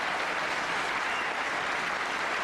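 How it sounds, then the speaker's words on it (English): Loud, steady applause and cheering from a snooker crowd at the 2002 Embassy World Championship first round for John Parrott, a dense unbroken wash of clapping with no talk. "Mighty cheer for John Parrott."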